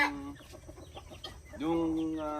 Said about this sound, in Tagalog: Jersey Giant na rooster tsaka Jersey Giant na hen.